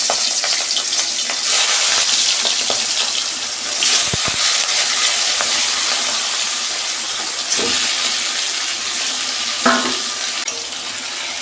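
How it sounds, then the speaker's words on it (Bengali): Prawns fry in hot oil in a wok, giving a loud, constant sizzle broken by occasional clinks and scrapes of stirring, with no talking over it. "তেল গরম হয়ে গেছে, আমি মাছগুলো ভেজে নিচ্ছি"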